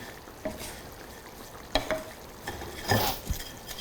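Breadcrumbs mixed with salt in a pan give a quiet, dry sizzle broken by a handful of short scraping stirs.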